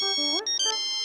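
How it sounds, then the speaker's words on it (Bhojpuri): A mobile phone ringtone plays as a short, bright melodic electronic tune of rising and stepping notes, clear and alone with no talking over it. "हमार फोन बजा था।"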